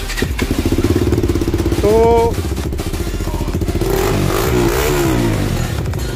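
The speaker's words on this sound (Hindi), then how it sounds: "स्टार्ट करने के बाद जो एग्जॉस्ट का साउंड है वो देखते हैं" A KTM motorcycle with an aftermarket exhaust and a dB killer fitted starts with a rough rumble and settles into a steady, throaty idle, close by, with a brief spoken word near the start.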